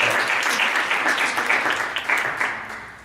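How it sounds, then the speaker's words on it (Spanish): Audience applause for a magician's assistant at a Spanish magic history talk, a dense, steady burst of many hands clapping close by that thins out slightly toward the end. "Un aplauso para ella."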